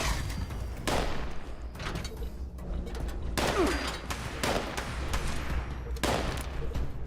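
Enemy gunfire in the Fallout 76 video game, repeated bursts of shots at irregular intervals, some sharp and close, others duller, over a low rumbling background.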